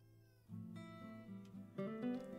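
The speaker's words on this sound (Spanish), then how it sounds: "al gato lo oigo perfectamente" A domestic cat meows nearby, giving a couple of loud, drawn-out, wavering meows in close succession.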